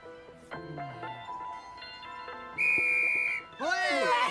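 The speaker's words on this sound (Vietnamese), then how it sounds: "Tôi thổi còi kết thúc trận đấu chứ?" Referee's whistle ending a children's basketball match, one sustained shrill blast in the middle, loud and close, with people speaking before and after it.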